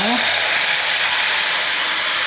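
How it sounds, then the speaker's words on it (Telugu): Mango rasam hits a hot tempering of cumin, turmeric and curry leaves, giving a loud, close, continuous steamy hiss that holds for a couple of seconds before cutting off. "ఇప్పుడు మనం ఇది పోపులో పోసుకోవాలి"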